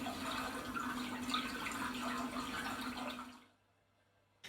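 Gentle water sounds from a floating lilies sensory projection app flow as a steady, soft wash, then fade out to near silence.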